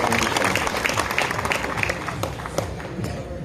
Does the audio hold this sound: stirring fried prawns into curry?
no